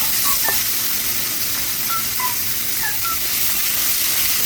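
Garlic and herbs sizzling in a pan over moderate heat while being stir-fried, a steady close hiss of frying with faint intermittent chirps in the background.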